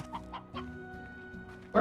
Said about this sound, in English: There's like chickens in there, so that's super helpful.